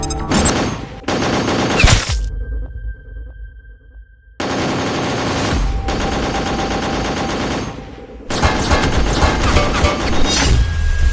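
Gunfire aimed at soldiers and robots in a game, dense rapid bursts of shots that come in several loud close volleys separated by short quieter gaps, no talking.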